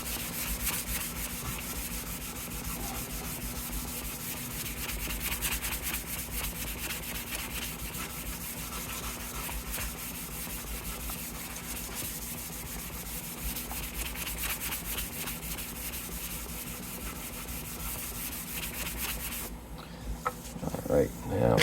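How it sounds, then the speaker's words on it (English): A sanding block rubs back and forth along the fretboard of a vintage left-handed Gibson Les Paul, a steady close scraping rasp for about twenty seconds before it stops, followed by a few light knocks. "Good, we got our sanding block, we'll just do this."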